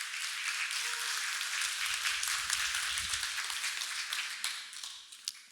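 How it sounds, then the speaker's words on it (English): An audience claps steadily to welcome a speaker onto the stage at a tech talk, a dense, even wash of applause that tapers off with a few last claps near the end. "So do please give him a round of applause."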